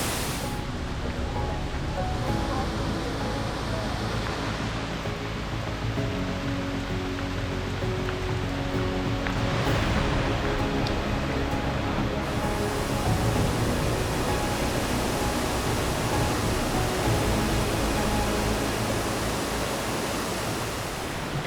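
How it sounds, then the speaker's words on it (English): Taughannock Falls, the tallest waterfall in New York State at 213 feet, roars as a steady, dense wash of falling water, loud and unbroken from start to finish with no voices over it. "This behind me is the Taughannock Falls, the tallest waterfall in all of New York State"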